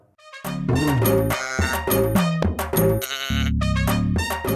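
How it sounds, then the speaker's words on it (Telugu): A goat and her five newborn kids in Jangaon district bleat loudly and close by, in a run of repeated, overlapping cries with only brief gaps between them. "ఓ గాయన పెంచుకుంటున్న మేక ఏకంగా ఐదు పిల్లలు పెట్టిందట"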